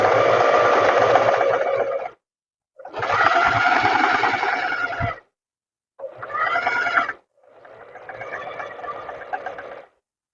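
A sewing machine stitches a pocket seam on a tailored vest in four separate bursts of fast, rattling whir, each lasting a second or two and separated by short silences, heard close and alone.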